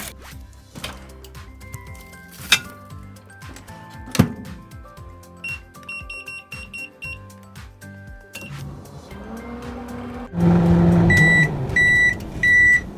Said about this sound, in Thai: แล้วเดี๋ยวเราจะไปเข้าไมโครเวฟนะคะประมาณ